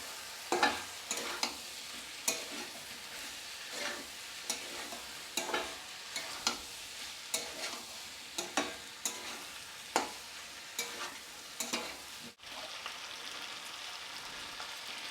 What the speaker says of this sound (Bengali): আমি 3 থেকে 4 মিনিট এটা ভালোভাবে কষিয়ে নেব।